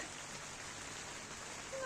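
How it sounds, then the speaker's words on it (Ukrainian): Rain drips and patters in a tomato greenhouse as a steady, soft hiss of close drops that swells slightly at the end. "Оце таке дощ іде, капає, чуєте музику дощу"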